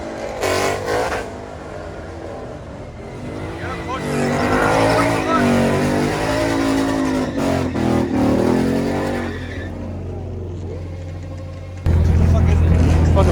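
At a Los Angeles street car meet, a Ford Mustang slides sideways with long, wavering tire squeal and roaring engine revs, loud and near, while people talk and shout over it.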